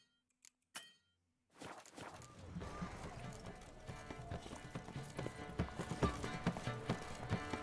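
A horse gallops in a video game, its hooves clopping in a steady, rapid rhythm that starts after a few short knocks and carries on loudly over a dense backdrop of game sound.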